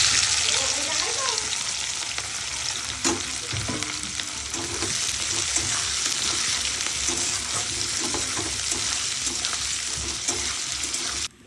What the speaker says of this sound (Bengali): রসুন ফোড়ন দিলাম